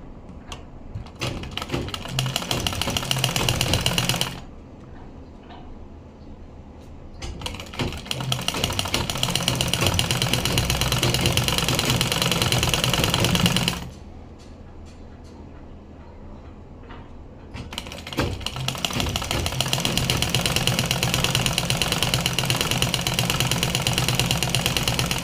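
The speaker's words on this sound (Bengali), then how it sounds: "এখন হাতার মাথাটা আমরা সেলাই দিয়ে দেই" A sewing machine stitches the head of a garment sleeve in a clear, close, steady mechanical whirr, running in three long bursts separated by brief pauses.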